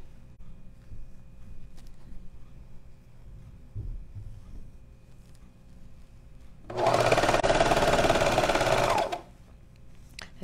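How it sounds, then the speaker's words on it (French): A serger (overlock machine) runs in one steady burst of about two seconds, stitching a seam through micro-fleece and jersey for a knit toque. It follows a quiet stretch of faint handling noise and stands loud and alone. "La surjeteuse, c'est très rapide. Ça fait une couture très propre."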